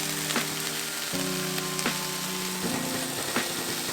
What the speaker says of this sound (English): And then saute both of those together.